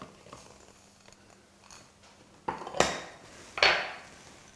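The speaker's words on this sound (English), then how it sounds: "So first up we need to sift all of our dry ingredients." Rice flour, caster sugar and corn flour being sifted in a kitchen, heard as soft scraping and a few sharp metallic taps and rattles of a sieve against a bowl, close and otherwise quiet.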